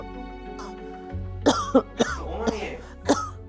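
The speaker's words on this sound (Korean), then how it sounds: "급히 운동을 멈추고 집에 왔지만 기침은 멈추질 않는다" Several short, harsh coughs and throat-clearing bursts come from a person at home after abruptly stopping exercise. They are spaced irregularly over soft background music, and a voice speaks briefly.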